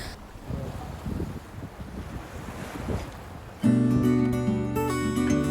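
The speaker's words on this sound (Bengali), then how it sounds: "তার মধ্যে প্রচণ্ড হাওয়া হচ্ছে" Strong wind buffeting the microphone by the water at a harbor lined with fishing boats on the Apostle Islands, gusty rumbling noise for several seconds before music cuts in loudly.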